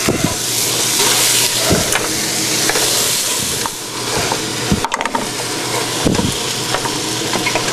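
Tomato sizzles in a hot pan while a utensil stirs and scrapes it, giving a steady frying hiss broken by irregular knocks and clatters, close by.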